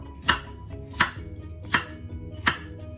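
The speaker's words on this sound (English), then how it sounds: "I'm going to start to cut up my carrot" A knife chops carrots four times at an even, unhurried pace, each crisp thunk hitting a cutting board close by, with no talking.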